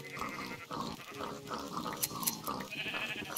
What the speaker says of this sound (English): Oh, sheep. Someone's about to die over there.